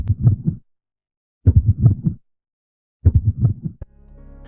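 A faint-seeming heartbeat from the animatronic Afton in FNAF Pizza Simulator sounds as three evenly spaced clusters of deep thumping beats separated by silence, followed by a low hum.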